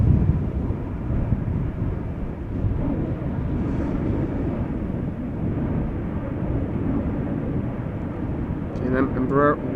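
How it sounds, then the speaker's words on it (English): An Embraer 190 jet departs at Amsterdam Schiphol Airport with a loud, continuous low roar of engine thrust mixed with wind buffeting on the microphone, and a brief higher tone near the end. "Embraer 190"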